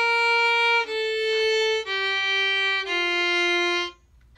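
Four sustained bowed notes from a string instrument playing bar 7 of a song, each held about a second with brief breaks between, stepping down in pitch, clear and close with no talk.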